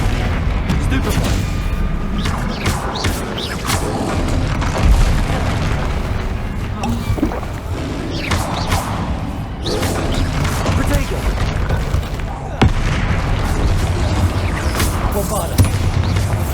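Repeated booming spell blasts from Bombarda in Hogwarts Legacy, a steady barrage of close, loud impacts layered with game effects and combat noise throughout.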